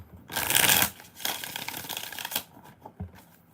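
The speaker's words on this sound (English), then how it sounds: "One more shuffle." Tarot cards being shuffled by hand, a dense riffling burst followed by several shorter rustling and snapping passes, close and alone without talk.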